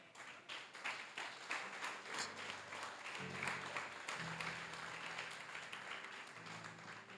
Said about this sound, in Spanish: Pero si lo quieres aplaudir,